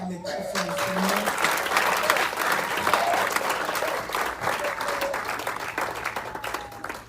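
A church congregation at an evangelistic service applauds loudly for the Lord, with sustained, dense clapping and scattered voices that carry on for several seconds before easing off.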